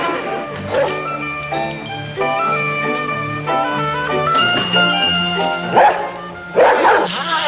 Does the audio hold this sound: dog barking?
yes